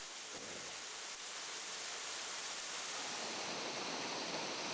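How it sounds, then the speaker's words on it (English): A waterfall in the Great Smoky Mountains pours in a constant, dense hiss and rumble, close and loud, with no talking over it. "Falling water."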